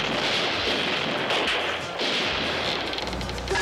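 Cartoon gunfire aimed at tin can targets: a dense run of sharp, loud shots and bangs crowds the whole stretch, with no talking over it.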